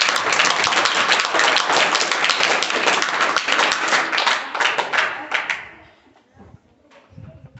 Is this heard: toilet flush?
no